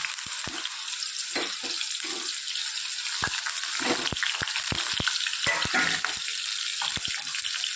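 Onion drops into hot tempered oil in a pan for a bitter gourd dish, setting off a loud, steady sizzle with scattered crackles and stirring clinks over the whole stretch.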